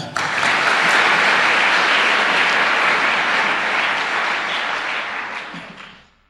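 A church congregation at a Sunday service claps and cheers in sustained applause, loud and dense, which fades out at the end.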